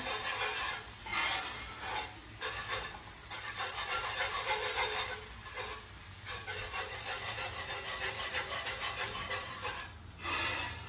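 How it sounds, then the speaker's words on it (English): Coconut milk being whisked into a vegan mac and cheese sauce, the whisk scraping and rubbing steadily against the pan in continuous strokes with brief pauses, close and moderately loud. "I'm just gonna whisk it in little by little."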